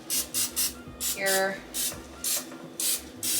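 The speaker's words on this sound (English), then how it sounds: "I just sprayed mine down with some olive oil spray" Olive oil cooking spray is sprayed into a muffin tin in short, hissing bursts, several quick spritzes in a row, close and fairly loud, with someone speaking briefly between them.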